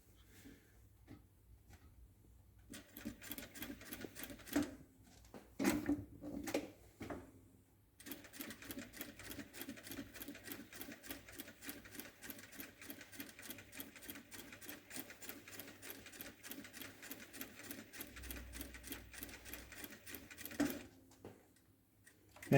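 A sewing machine stitches jacket canvas, with a few short starts and stops before a long, steady run of fast, even needle ticking, close and moderately loud, then stopping.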